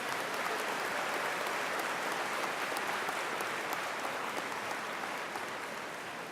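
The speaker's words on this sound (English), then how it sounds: "How about a round of applause for all of our guests here this evening?" A commencement audience at a summer school graduation ceremony applauds guests, a dense, continuous wash of clapping from a large crowd that holds steady for several seconds in a big hall.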